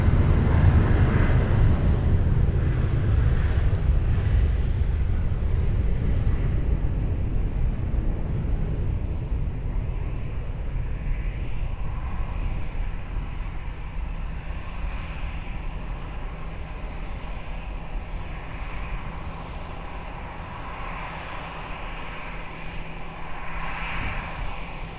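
A jet airliner takes off from runway 20 at Lisbon Airport with a loud, sustained low rumble and roar that slowly fades as it climbs away, heard from a distance with no voices.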